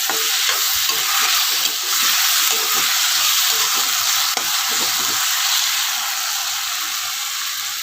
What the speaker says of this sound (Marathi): मी फास्ट गॅसवरती फ्राय करून घेते